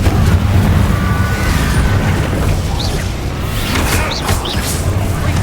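A Confringo spell blast in Hogwarts Legacy, a loud sustained booming roar that rumbles for several seconds and is topped by a few sharp crackles near the end.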